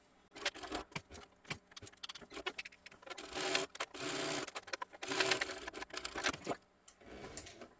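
Sewing machine stitching a straight line across a crossbody sling bag, a quiet, close rapid patter that runs in bursts with brief pauses between runs.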